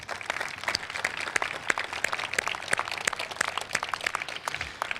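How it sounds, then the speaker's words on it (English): A round of applause for a crew at an outdoor event on the Potomac River waterfront in Washington, D.C., dense steady clapping from a crowd that goes on throughout without talk. "Please give them a round of applause."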